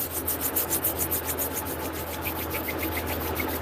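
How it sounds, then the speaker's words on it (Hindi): Two palms rub together briskly to warm them, a close, steady dry swishing in repeated strokes with no talk. "दोनों हथेलियां आपस में मिलाते हुए रगड़कर गर्म करेंगे।"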